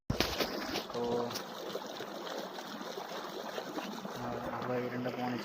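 Irrigation water runs steadily into a castor field, a continuous rushing trickle heard close, with someone talking over it.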